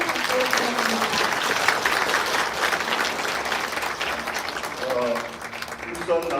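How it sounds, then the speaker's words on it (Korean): An audience at a launch ceremony in a National Assembly hall applauds after a congratulatory speech. The clapping is sustained and full, with a few voices mixed in, and it thins slightly toward the end. "다시 한번 큰 박수 부탁드립니다."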